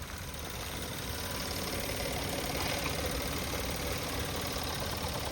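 A 2018 Maruti Suzuki Alto K10 VXI petrol engine idles close by, a continuous low rumble with a faint rhythmic knock and no voices.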